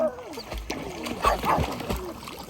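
A rescue dog on grooming day barks a few times, close by, over splashing and sloshing water.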